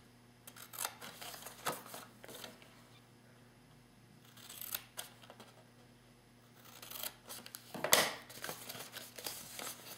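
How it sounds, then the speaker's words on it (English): Scissors cut up the side of a paper Valentine box toward a score line, giving intermittent close snips with light paper crinkling and rustling between cuts. No one speaks. "take your scissors and you're going to cut up from the side and meet that score line"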